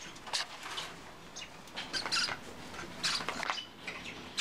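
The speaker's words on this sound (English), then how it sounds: "They are always the tamest, bravest little birds." Hand-fed Bourke's parakeet chicks give soft, high chirps and squeaks in scattered short bursts, close by and fairly faint, with light rustling between calls.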